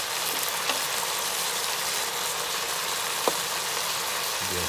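Chicken pieces for curry fry in a pan with a loud, dense, continuous sizzle, with faint scrapes of stirring now and then and no talking.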